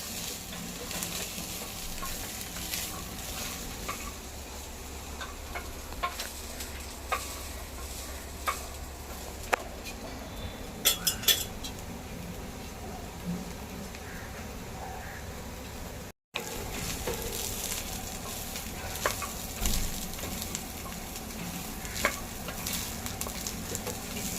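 Green peas for a matar pulao are stirred and fried in a pan, a continuous soft sizzle broken by light scraping and clinking of the spoon against the pan, close and steady with no talk.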